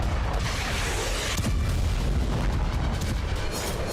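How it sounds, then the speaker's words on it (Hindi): Heavy booms and rolling blasts from Israeli airstrikes on Gaza, recorded in news footage, rumble continuously and loudly with no talk. "गाजा में फिर बम बरसे।"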